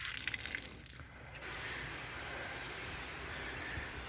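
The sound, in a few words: garden hose spraying on shower setting, washing a 1978 Chevy C10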